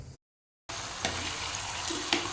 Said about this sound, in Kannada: ಚಿಕನನ್ನು ಬೇಯಿಸ್ಲಿಕ್ಕೆ ಇಟ್ಟಿದ್ದೇನೆ ಇವತ್ತು ನಾನು ಗ್ಯಾಸ್ ಒಲೆಯಲ್ಲಿ ಮಾಡ್ತಾ ಇದ್ದೇನೆ